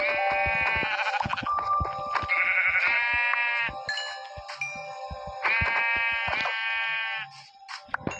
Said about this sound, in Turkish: Aha koyunlar gelmiş bile. 13 tane koyun.